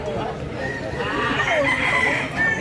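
Roosters crow and cluck at a busy chicken market in Consolacion, Cebu, several birds overlapping in long calls near and far, with people talking in the background.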